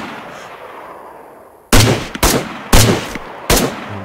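Four loud, close gunshots fired at a running enemy near trees, each a sharp crack with a short echoing tail, coming at irregular intervals after a quiet start.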